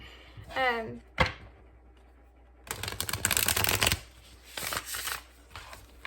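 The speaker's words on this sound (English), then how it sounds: "that was a horrible shuffle" A deck of tarot cards shuffled by hand in two quick riffling bursts of dense papery flutter, with a short vocal sound before them and quiet gaps between.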